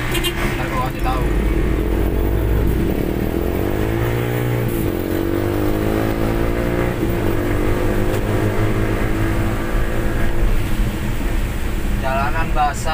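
Motorcycles passing on a wet road, a continuous engine drone with rising and falling pitch as bikes approach and pass, close and loud, with a hiss of wet tires.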